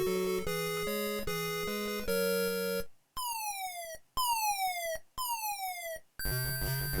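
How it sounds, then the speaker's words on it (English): Countdown sound effect from Buggy Boy on the Amstrad CPC: a bright repeated chiptune beeping, then three separate falling electronic tones with gaps between them, and a final buzzy tone, fairly quiet and alone. "That countdown sound effect's a bit twee"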